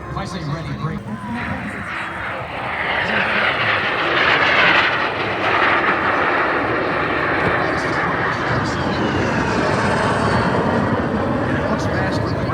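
Boeing F/A-18 Super Hornet jet flying at an airshow, a loud continuous roar that swells and holds steady as the aircraft passes, with crowd noise underneath.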